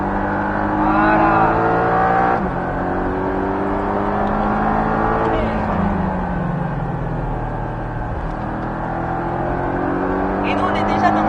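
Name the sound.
Porsche 718 Cayman S engine on Bresse race circuit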